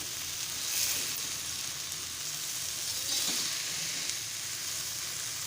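Fish, Malvani style, fries in a pan with a soft, even sizzle, faint and continuous, with a couple of gentle swells from stirring.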